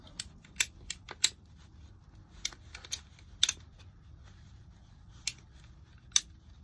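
Scrap PVC being cut for a seeding tray, heard as a series of sharp, isolated snips and clicks spaced irregularly over a quiet low hum, close and fairly crisp.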